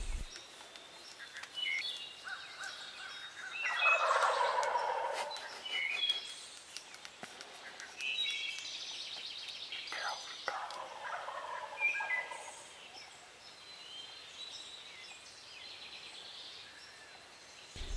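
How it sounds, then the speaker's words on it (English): Wild turkeys gobble on the roost in loud bursts from several directions, some close and some distant, with quiet pauses between the calls. "hearing the turkeys on the roost gobbling their heads off"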